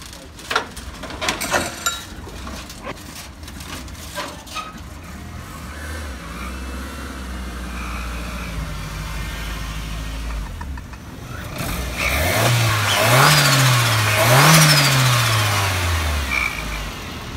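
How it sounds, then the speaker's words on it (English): A Ford Transit Connect van runs on a rolling road dyno. Its engine idles with a few clicks and knocks, then revs hard and rises in pitch in a loud, close surge that swells and dips before easing off. "So I'm going to put it on the dyno today, see what power it makes"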